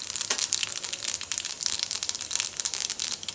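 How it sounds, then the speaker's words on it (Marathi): Mustard seeds and cumin hit hot oil in a pan, giving a loud, dense crackle of rapid pops and spatters that runs steadily throughout, close up. "असं तेल तापलं की आपल्याला इथे थोडीशी अशी मोहरी टाकायची आहे एक चम्मच एक चम्मच आपल्याला जिरं टाकायचं आहे"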